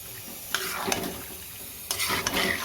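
Chicken being stir-fried in a pan over high gas, with a soft sizzle and a few sharp scrapes of a spatula stirring it. The sound is close but fairly quiet, with no talking.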